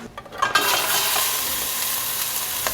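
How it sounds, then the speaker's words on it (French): Spiny lobsters searing in a hot pan. A loud, steady sizzle starts after a few stirring clatters and continues unbroken, with no voices. "Les langoustes. Donc, on voit que c'est saisi, on baisse le feu."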